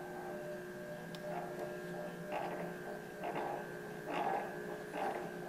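A laboratory rocker agitator machine runs with a faint, steady electrical hum, and soft rhythmic swells repeat roughly once a second as the rocking motion cycles.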